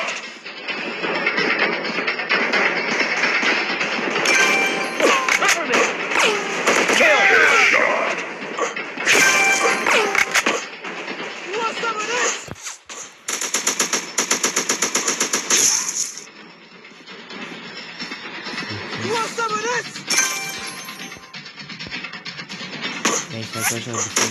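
Gunfire in an FPS shooting video game: rapid bursts of automatic fire and single shots, loud and up front, with short pauses between volleys and voices talking over the action.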